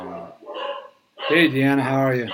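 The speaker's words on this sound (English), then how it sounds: "Sorry about the dogs." Dogs bark briefly in the background at the start, then a person speaks over the tail of the barking.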